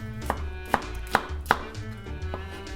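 Knife chopping cabbage and onion into large pieces on a cutting board, four or five sharp, irregular chops close by, with quiet pauses between them.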